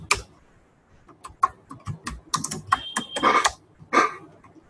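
Typing Python code on a computer keyboard, quiet irregular clicks and clustered key taps at close range with short bursts and pauses, no speech.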